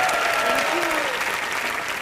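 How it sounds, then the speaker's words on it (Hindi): A studio audience at a live comedy show breaks into loud, steady clapping, with a faint voice briefly audible beneath the dense applause. "जोरदार तालियां हो जाएं।"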